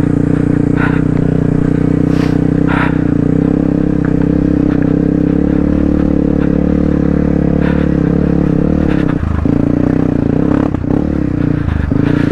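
A motorcycle rides over a loose, low-traction surface, its engine droning steadily near the listener with occasional scrapes and clatters from the ground, and brief dips in the engine note near the end.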